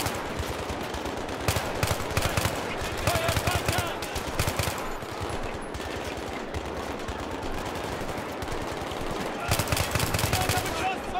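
Rapid automatic gunfire in the video game Battlefield 3, repeated bursts of machine-gun shots crackling in clusters over a constant loud battle din, with a voice talking underneath.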